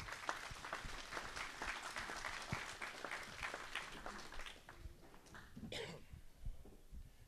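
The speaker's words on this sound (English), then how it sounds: "give Daryl Stevenson a nice round of applause" Scattered applause from people in the stands at an Angus cattle sale, fairly sparse and uneven claps with occasional coughs and throat clearing, fading toward the end.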